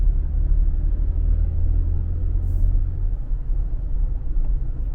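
Interior rumble of a Jaguar slowing down while driving on adaptive cruise, with a steady low road and engine drone that eases slightly partway through, continuous and fairly loud, with no talking.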